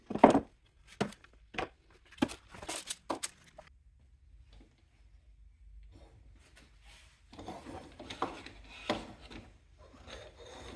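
Hand sanding of a wooden toy excavator with sandpaper in 80 to 180 grit, heard as close, irregular rasping strokes in short bursts, a quieter pause, then more rapid scrubbing strokes.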